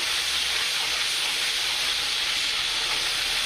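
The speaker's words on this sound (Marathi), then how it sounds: "आणि याला फ्राय होऊ द्यायचं आहे." A ground masala paste of onion, garlic, ginger, coriander, coconut and tomato frying in a pan for egg curry, making a loud, constant, close hiss with no talking.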